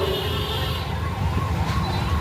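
An ambulance siren wails steadily at mid distance with a rising and falling tone, set against road and crowd noise at an outdoor anti-drug pledge event in Piduguralla.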